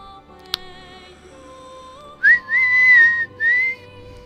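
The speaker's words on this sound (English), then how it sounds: "I'm not good at whistling in tune." Someone whistling a short, wavering melody in a few sustained phrases, close and clear over a quiet background with faint music, after a single sharp click.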